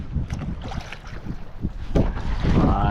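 Strong wind and waves at sea buffet a small boat, with gusty, roaring wind noise and irregular splashing surges that grow louder toward the end, close and rough.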